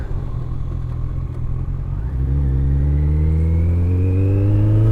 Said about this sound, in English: Oh god, there's so many cars coming down this way.